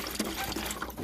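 Water sputters and gurgles through a GE refrigerator water line after a filter change, air clearing with splashy irregular flow, close and steady.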